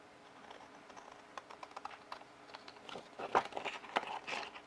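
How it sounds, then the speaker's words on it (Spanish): Scissors cut through several stacked sheets of paper at once while making a notebook, giving faint, close crunching snips and crinkles in an irregular run. "Luego con las tijeras corto todo junto."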